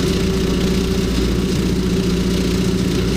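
A tractor engine drives a 72-inch heavy-duty brush cutter, holding a steady, loud mid-to-low drone with a constant mechanical hum and no breaks or talk.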